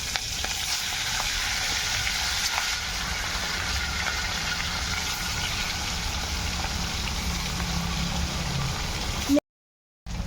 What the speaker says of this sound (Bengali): এবার আমি মাছগুলোকে দিয়ে ভালো করে ভেজে নিই